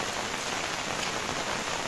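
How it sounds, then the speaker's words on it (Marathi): Heavy rain pours down steadily on the way to Mandangad, a dense, loud and unbroken hiss of drops hitting surfaces all around, with no talk. "पाऊस एकदम मजबूत पडतोय"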